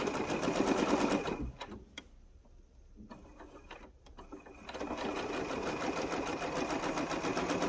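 A sewing machine stitches a seam on a T-shirt quilt, running steadily and loudly, pausing for about three seconds in the middle, then running again.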